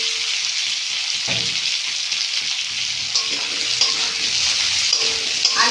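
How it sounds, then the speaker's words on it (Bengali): Small-cut potatoes sizzle steadily in hot oil in a pan, a dense continuous frying hiss with occasional scrapes of stirring, close and fairly loud, with no talking. "ভালো করে একটু ভেজে নেব"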